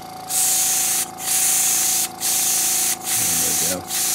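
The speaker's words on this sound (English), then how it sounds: "And I'll just spray a few lines on here." An airbrush spraying paint onto a Parkzone P-51 Mustang model plane hisses in four sustained bursts separated by short pauses, close and fairly loud, with a brief voice near the end.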